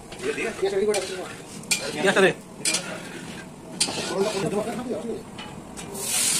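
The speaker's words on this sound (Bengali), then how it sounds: "আর তেজপাতা, শুকনো লঙ্কা, জিরে পড়লো।" Bay leaves, dried chillies and cumin are tempered in a pan, heard as stirring and scraping with sizzling, while people talk over it close by.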